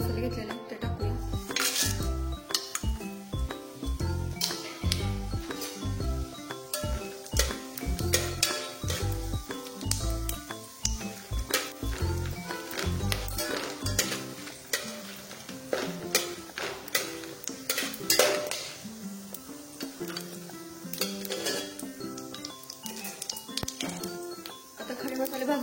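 Whole spices tossed into hot oil for a spicy Satara-style mutton curry, crackling and clinking in quick bursts with a soft sizzle beneath, while a voice talks over much of the cooking.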